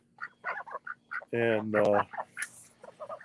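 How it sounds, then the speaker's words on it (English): Ducks quack loudly in a couple of long honking bursts in a backyard pen of dog kennel panels, close to the listener, between short calls from a man urging them inside. "come on, ducks. Come on in here."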